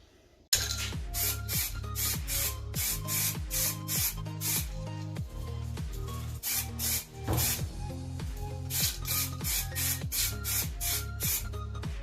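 Spray can applying primer to spoked wheel rims, with short sharp hissing bursts repeating in a steady rhythm, loud and close, with a few brief pauses between passes.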